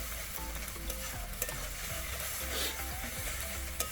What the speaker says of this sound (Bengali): ভালো করে কষিয়ে নিতে হবে, যতক্ষণ ওই কাঁচা গন্ধটা যাচ্ছে ততক্ষণ কষিয়ে নিতে হবে।